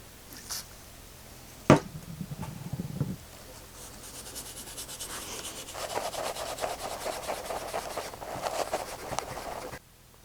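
Steel wool and oil scrubbing a rusty falcata short sword blade, a soft rhythmic rasping rub close by that grows steadier in the second half, with a sharp clack early on and brief faint murmurs.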